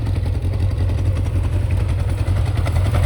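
A Kawasaki Zephyr 750 motorcycle engine, freshly worked on after carburetor repairs, runs steadily nearby with a low, even, throbbing idle throughout.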